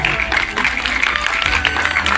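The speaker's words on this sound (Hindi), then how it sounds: "जोरदार तालियां बजाइए" Students and staff at a school event clap loudly and steadily for an honoured guest, a thick, busy patter of hands that continues with a voice faintly audible underneath.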